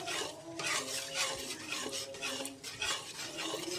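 A spoon stirs sugar as it browns in a hot pan. The scraping strokes and soft sizzle run continuously up close at a brisk, even pace with light metallic clinks and no talking.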